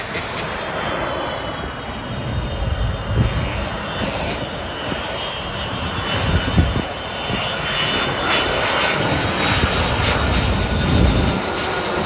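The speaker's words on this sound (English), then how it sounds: "Close behind, then a DHL 777 cargo plane from Nagoya," A DHL Boeing 777 cargo jet flies overhead, its engines roaring loudly and steadily with a rising and swelling whine as it passes close by, no voices heard.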